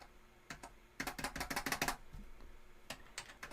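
Rapid bursts of button clicking on a PC game controller while playing Way of the Samurai 3: a quick flurry of sharp taps, then a few scattered clicks, fairly faint and with no voices.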